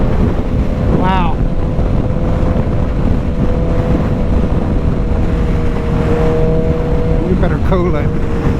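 Suzuki Hayabusa 25th Anniversary motorcycle, a 2024 model with a flashed ECU, accelerating hard at speed. Engine drone and quick rising revs sit under heavy, constant wind roar at the microphone.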